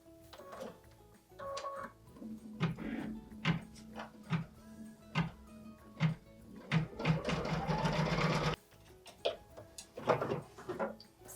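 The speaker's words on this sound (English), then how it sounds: "I'm going to keep that gray thread in for this next step so that you can see how it stitches the tack down line and the scoring guides." An embroidery machine stitches placement lines and scoring guides in gray thread, a quiet, steady mechanical ticking and whirring with rhythmic needle clicks, pausing briefly and resuming.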